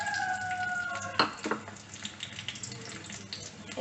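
Chopped onions and green chillies, with two bay leaves, dropped into hot oil for a flattened-rice biryani, giving a broad hissing sizzle that bursts in around the one-second mark and then settles into a steady frying crackle.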